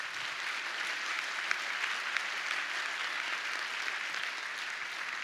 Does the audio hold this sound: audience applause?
yes